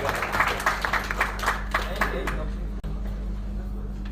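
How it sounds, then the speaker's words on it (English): Brief scattered applause from a gathering of retired station masters at an association meeting, claps fading out after about two seconds over low room hum. "One round of applause to Anandarao sir."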